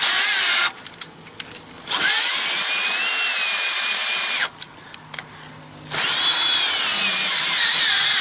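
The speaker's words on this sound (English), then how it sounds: "Little socket that you put onto a cordless drill, and then it makes running your stabilizer jacks up and down" A cordless drill with a socket attachment whines steadily in three long bursts, running RV stabilizer jacks, pitch sliding as the load changes, with short quiet gaps between runs.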